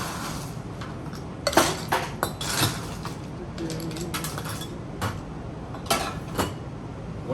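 Ice cubes clatter and clink into a pasta mug while a Mermaid Water cocktail is built, several loud clusters of rattling strikes spread across the stretch with no talking.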